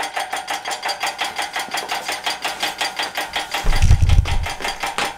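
A turbocharged Suzuki Hayabusa motorcycle engine runs steadily nearby with an even, rapid pulsing beat, and a heavier low rumble swells near the end.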